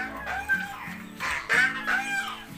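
Several Rhode Island Red chickens cluck and squawk nearby in irregular bursts, with one louder crowing call standing out.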